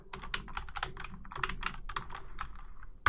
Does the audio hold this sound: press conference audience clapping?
no